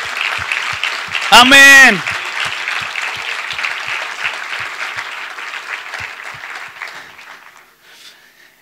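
A church congregation applauds, dense clapping throughout that slowly fades out, while someone shouts an exclamation with a loud, sliding voice near the start.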